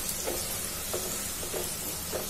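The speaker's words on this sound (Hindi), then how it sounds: "तो प्याज हमारी फ्राई हो गई है" Onions fry in a pan for moong dal, giving a steady broadband sizzle with a few soft stirring scrapes at regular intervals, close and moderately quiet.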